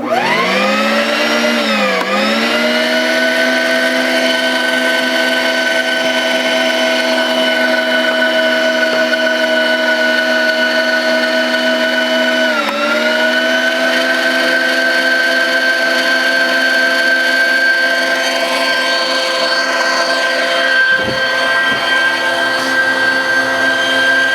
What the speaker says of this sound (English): I've been able to make bread with the WonderMix kitchen mixer with them